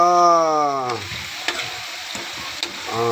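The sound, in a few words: sweet potato frying in pan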